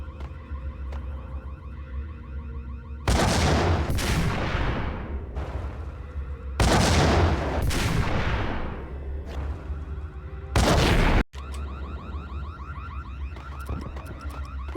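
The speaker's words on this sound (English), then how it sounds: "There's like 5 dudes with grenade launchers." Heavy blasts from grenade launchers boom in Max Payne, three loud long explosions with decaying rumbling tails and a sharp final burst, separated by a steady droning background, with no talk.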